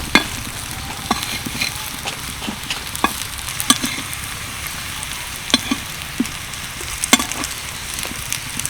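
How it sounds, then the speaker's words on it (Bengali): Continuous crackling sizzle of gram flour pieces frying on a hot griddle, with scattered sharp pops and occasional clicks of a utensil. "একদম হালকা করেই ভেজে নিচ্ছি"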